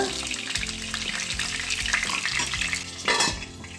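Stuffed brinjal frying in oil in a pan, a steady close sizzle filling the whole stretch, with occasional utensil scrapes and clinks against the pan and no talking.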